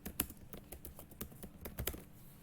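A name being typed on a computer keyboard, a quiet close run of irregular key taps with a couple of slightly harder strokes.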